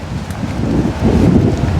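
Steady wind gusting and buffeting close to the microphone, a low rushing roar with no other clear sounds.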